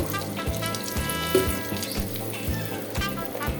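Cumin seeds sizzling in a little hot white oil, a close, steady frying hiss with a faint rhythmic tapping underneath throughout.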